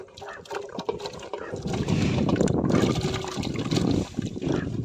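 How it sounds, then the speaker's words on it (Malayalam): Peeled cassava pieces are tipped into a pot of water, giving a sustained splashing, sloshing wash that builds and holds loudly for several seconds, close by. "ആ വെള്ളത്തിലേക്ക് നമുക്ക് കപ്പ തട്ടി കൊടുക്കാം"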